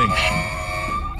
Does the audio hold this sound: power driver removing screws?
no